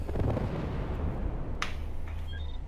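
Heavy mech weapons fire booms in MechWarrior Living Legends, deep and rumbling with an explosive, artillery-like weight. A short sharp crack follows partway through. No talk is heard.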